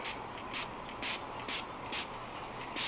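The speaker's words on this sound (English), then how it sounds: "my arm is getting tired from all of this spritzing" K&N cleaner sprayed from a trigger bottle onto a Jeep JL cabin air filter: six short hissing spritzes at a steady, roughly half-second rhythm, close and moderately loud over a quiet background.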